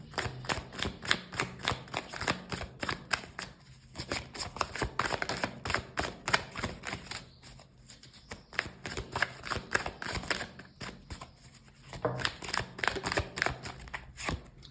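Cards being shuffled and drawn for a card reading, a near, continuous stream of crisp riffling and flicking in bursts with short pauses, no voice over it.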